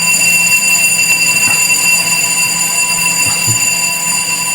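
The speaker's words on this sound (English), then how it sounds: "I'm guessing that's the fire alarm that goes off when everyone mentions the word culture." A fire alarm sounds in a building, a loud steady electronic tone holding without pause for the whole stretch, with faint low thumps beneath it.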